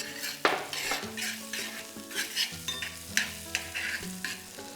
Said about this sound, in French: On va faire revenir le tout dans un beurre à base de fleurs de ciboulette.